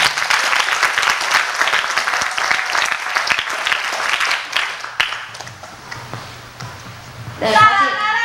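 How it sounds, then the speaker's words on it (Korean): Applause from an audience at a university student council policy debate, a dense burst of clapping that fades gradually into a quieter room before a brief voice near the end. "큰 박수 한번 부탁드리겠습니다."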